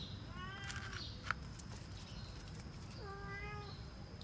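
A young kitten, about six weeks old, meows twice with thin, high, rising cries, one early and one near the end, over a steady background hiss.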